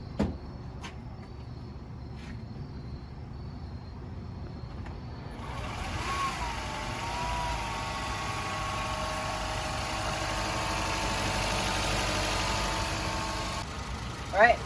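Second-generation Honda Insight hybrid starting up after an AC compressor replacement; a faint background hum gives way to a steady low engine idle with a brief rising whine, continuing evenly to the end.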